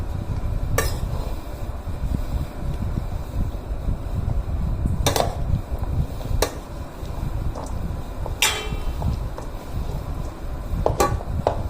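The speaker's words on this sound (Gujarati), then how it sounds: "ચાલો લીંબુના ટુકડાને આવી રીતે આપણે આમાં કેળામાં મિક્સ કરી દેવાના છે" Lemon pieces being mixed by hand into kerda berries for a pickle, with scattered light clinks and scraping of utensils against a bowl over a low background rumble.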